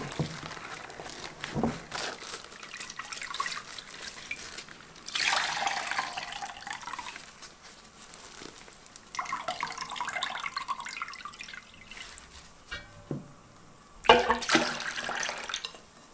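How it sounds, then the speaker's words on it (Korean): Medicinal herb ingredients for a sweet rice drink are rinsed in water until it runs clear, producing close splashing, sloshing and trickling in several separate bursts with quieter stirring between them. "조금만 더 맑은 물 나올 때까지 해주세요."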